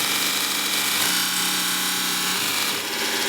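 A small mini belt linisher with a 30 by 330 mm belt and a 24 volt DC motor runs at full speed, giving a loud, steady whirring hum with belt rush close to the mic. The pitch stays fairly even and no one speaks.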